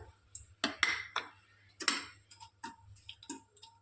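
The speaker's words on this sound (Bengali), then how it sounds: "এবার ওর সঙ্গে গোটা গরম মশলা, একটা শুকনো লঙ্কা ফাটিয়ে দিলাম।" Whole garam masala and a dried red chilli crackle in about four spoons of hot oil, giving sharp irregular pops and ticks, close and fairly quiet, scattered across the moment with short gaps and no voice.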